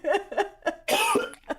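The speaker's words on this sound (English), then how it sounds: "Everybody's sick and coughing up lungs." A person coughs in several short bursts, then a harsher hacking fit, close and loud, with brief vocal sounds between.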